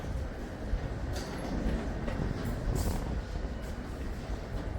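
Low rumbling train noise fills an underground Paris Metro station, with a steady roar and a few faint metallic squeals, no clear voices.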